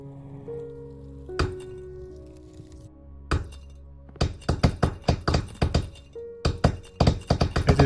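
Blocks breaking apart in the VR game cyubeVR, a few scattered cracking chops followed by a rapid, loud run of crisp clinking, crunching breaks in quick succession.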